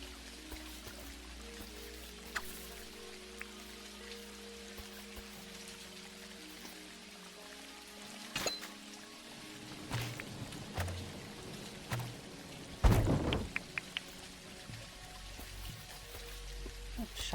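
Rain falls softly in the video game Dinkum, a quiet steady patter with scattered sharper drops and a few brief louder splashes, no clear thunder.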